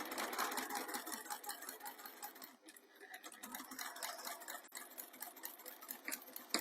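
Sewing machine stitching to the end of a fabric piece, a fast, even rattling whir running steadily and quietly with one brief slowdown midway.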